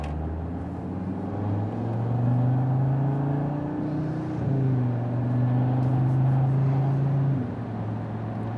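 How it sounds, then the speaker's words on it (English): An Audi engine with an MBRP cat-back exhaust, in comfort mode, drones steadily and rises in pitch as it accelerates toward 60, a low smooth exhaust hum heard from inside, with a brief shift midway. "We're gonna give it a decent pull up to 60 to see how it sounds like in the comfort mode"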